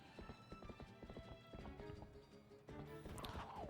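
A large draft horse in the Zelda: Twilight Princess video game clip-clops in quick rhythmic hoofbeats, then lets out a short whinny near the end.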